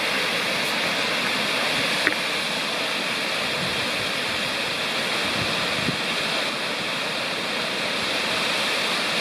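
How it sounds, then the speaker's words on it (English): A 60-foot waterfall at Foster Falls, South Cumberland State Park, Tennessee, roars steadily into a large pool, a dense broadband rush of falling water with no other sounds. "Beautiful waterfall."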